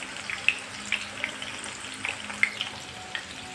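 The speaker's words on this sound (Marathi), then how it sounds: "तळणीच्या मिरच्या थोडासा सोनेरी रंग येऊपर्यंत तळून घ्यायच्या." Green chillies fry in oil with a soft, close bubbling sizzle. Small crackles and pops recur every half second or so over a low, quiet background.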